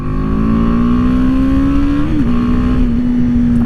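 A BMW G 310 R single-cylinder motorcycle under full throttle, its loud steady engine drone rising slowly in pitch with a brief dip near the middle, heard close and continuously with no talk.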